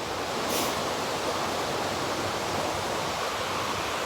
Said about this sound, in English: Look at the river this morning.